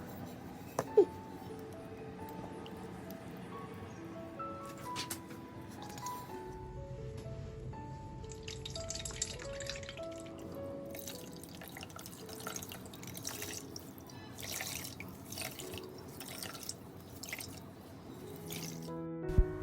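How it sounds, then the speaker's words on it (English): Water drips and trickles as wet paper pulp drains through a towel, soft irregular drops and squishy wringing sounds, faint and close with no voices. "Now using a towel, drain the water from our paper pulp."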